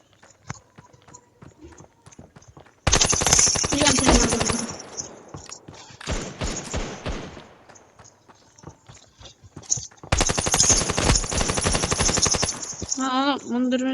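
Rapid automatic gunfire bursts from the mobile shooter Standoff 2 fill two long stretches, loud and dense, with sparser shots and clatter between them and a brief voice near the end.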